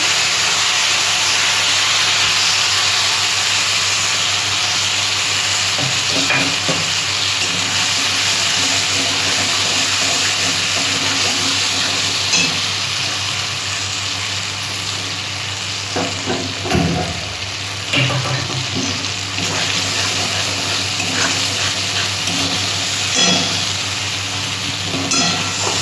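Spice paste hits hot oil in a pan for a vegetarian ridge-gourd fritter curry seasoned with asafoetida, giving a loud, steady sizzling hiss throughout with occasional stirring clatter and no talking.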